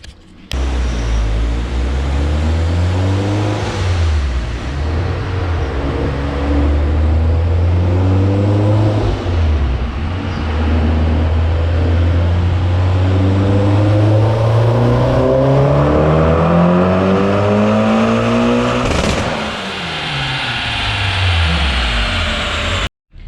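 A Mitsubishi Evo X running on flex fuel revs loudly and repeatedly, its engine pitch climbing and dropping through gears as it accelerates, close and dominant throughout.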